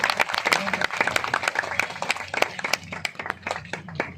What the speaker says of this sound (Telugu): చప్పట్లతో వారికి అభినందనలు తెలియజేద్దాం.